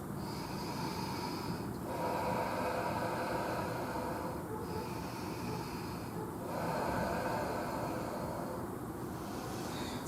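Slow, deep breathing during a prenatal yoga session, long airy inhales and exhales repeating in a steady cycle about every two seconds, soft and close over a faint hiss, with no talk.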